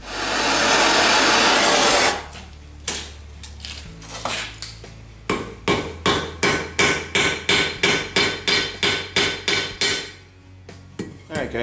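Hammer blows on the torch-heated, flattened end of a stainless steel wire spoon handle: a loud roar at first, then about a dozen sharp, evenly spaced metallic strikes in a steady rhythm, up close.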